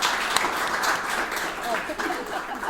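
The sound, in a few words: audience applause for panel speakers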